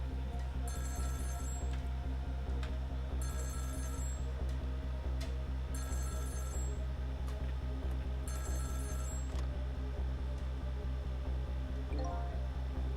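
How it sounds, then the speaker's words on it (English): A telephone rings in the video game Ghost Trick: Phantom Detective, in repeated bursts at a steady pace, four rings over a constant low hum and busy background noise. "About 2 hours before dawn, the phone rang."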